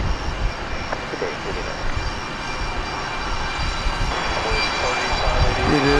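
A steady jet-engine roar comes from a one-year-old Spirit Airlines Airbus A320neo at DFW Airport, even and fairly close, rising slightly near the end, with a voice faintly present.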